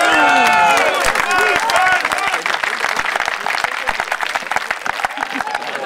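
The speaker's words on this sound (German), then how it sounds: "Und auch dafür wollen wir mit unserem Beifall ganz, ganz herzlich Danke sagen." A crowd at a football legends match applauds, sustained loud clapping and some cheering mixed with a voice talking over the public address, slowly thinning toward the end.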